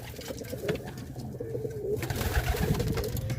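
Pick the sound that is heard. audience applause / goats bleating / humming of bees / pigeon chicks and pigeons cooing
pigeon chicks and pigeons cooing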